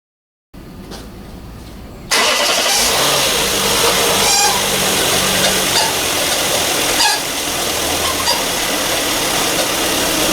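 After a short silence, a 2000 Lexus IS200 engine starts and runs steadily after an oil change, a loud constant mechanical drone with a slight dip partway through.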